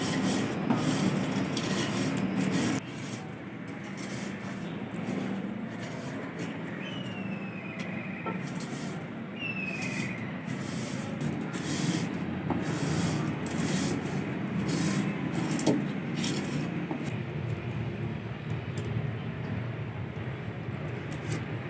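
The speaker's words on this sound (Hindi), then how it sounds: "सेवइयाँ को हम भून लेंगे तब तक कि ये गोल्डन नहीं हो जाती।" Seviyan vermicelli dry-roasting in a pan while being stirred, a steady close scratching and rustling hiss that runs continuously with small scrapes and no voices.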